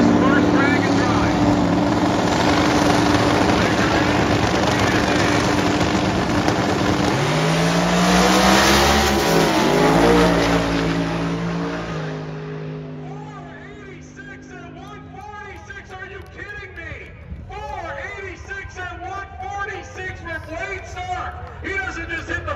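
A 1972 Monte Carlo roars loudly at a dragway during a drag racing event, its engine revving hard and then fading into the distance. An announcer talks over it.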